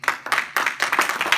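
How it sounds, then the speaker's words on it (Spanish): A church congregation at a Spanish-language service claps together in praise, a short run of sharp, closely spaced claps in a loose rhythm at moderate volume. "¿Cuánto le damos un fuerte aplauso al Señor?"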